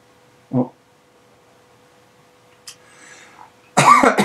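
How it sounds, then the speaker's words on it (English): A short cough, then a throat-clearing rasp, ending in a loud burst of harsh, spluttering coughing up close. "I do apologise for coughing and spluttering that way."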